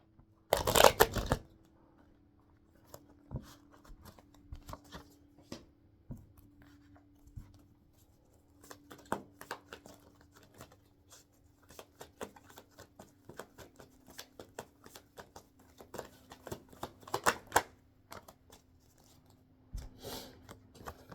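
An affirmation card deck being shuffled and a card drawn, a loud riffle burst at the start followed by soft scattered card clicks and rustles over a faint hum.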